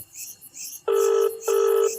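A telephone is dialed and gives two steady, evenly spaced electronic tones, each about half a second long, over faint background noise.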